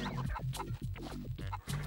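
Chicken clucking from the video game Mort the Chicken, a rapid series of close, loud clucks and squawks in quick bursts with no talk over them.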